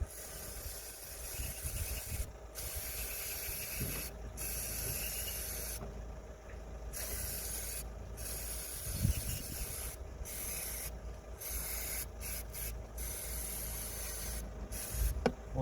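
A continuous hissing spray of aerosol cleaner onto a Honda Civic mass air flow sensor runs steadily for several seconds with short pauses, close by and fairly loud, with faint rubbing and handling noises underneath.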